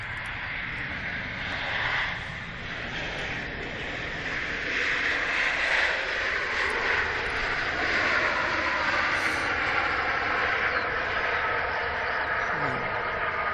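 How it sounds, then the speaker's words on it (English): Ryanair Boeing 737-800 from Dublin at Manchester Airport, a loud sustained jet engine roar that builds and holds steady, heard from a distance outdoors. "So this is Ryanair from Dublin, 737-800."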